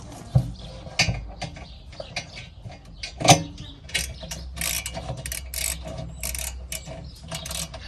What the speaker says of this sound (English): All we've got to do now is tighten it all up, and then that's that locker all done.